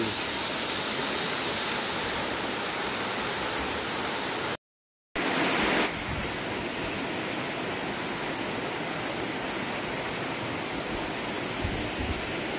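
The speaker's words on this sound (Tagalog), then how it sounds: "Unang falls ito mga Tatsuki." Busay Falls waterfall pours with a loud, steady broadband rush close by, continuous throughout apart from a brief dropout, with no voices.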